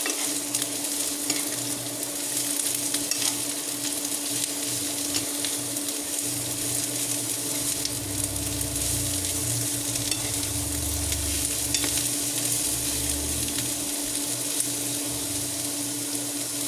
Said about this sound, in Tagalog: Ilagay ko na yung ampalaya. Haluin.